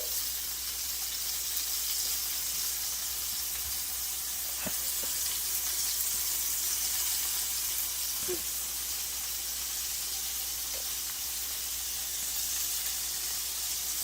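Steady, broad sizzling hiss of steak bites in hot oil in a pan, continuous throughout with a few faint clicks and pops, no talking.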